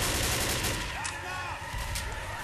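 Scout sniper rifle shots ring out in Left 4 Dead, sharp cracks over a dense wash of game combat noise, with other gunfire and a voice talking faintly underneath.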